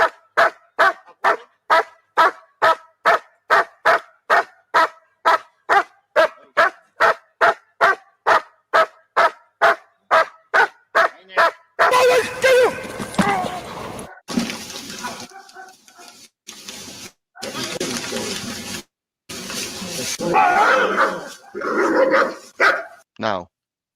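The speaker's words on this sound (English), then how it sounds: "That's a dog doing a protection routine." A dog barks in a fast, regular series of loud, close barks during a bark-and-hold protection routine, then noisier, mixed sounds follow with people talking.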